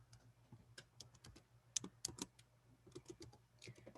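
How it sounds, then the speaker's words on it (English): Keys clack on a computer keyboard as an email address is typed, a quick irregular run of close, quiet taps with a few sharper strokes in the middle. "I'm going to type it in here."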